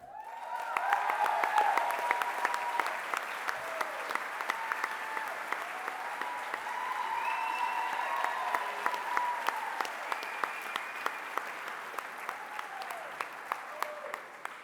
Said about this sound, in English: Please join me in applause for Harry and Sharon Miller.